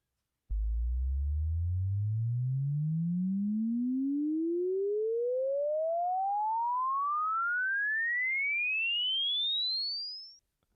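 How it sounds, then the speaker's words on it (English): A pure sine test tone at constant pressure sweeps smoothly upward from a low hum to a high whistle over about ten seconds, steady in level, then stops abruptly. "Here is a demonstration of sounds at a constant pressure, but at different frequencies."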